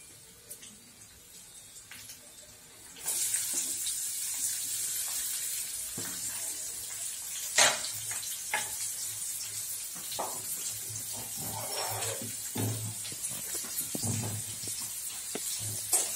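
Onions sizzling and frying in a pan for beans palya, a steady broadband hiss that starts abruptly a few seconds in and continues close and fairly loud, with occasional louder pops and stirring clatters.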